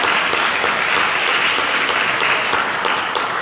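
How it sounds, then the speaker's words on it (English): A parish mission audience claps in a dense, steady round of applause that stays loud throughout, with no voices standing out. "A little round of applause for Jessica."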